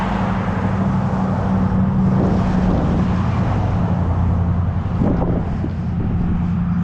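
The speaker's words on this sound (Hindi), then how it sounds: "ट्रक वाले ने साइलेंसर निकाल के उसको एरोप्लेन बनाया हुआ।" A truck with its silencer removed roars past on a road in Winnipeg, Canada, a loud, continuous, rough engine drone filling the whole stretch with wind-like noise and no pause.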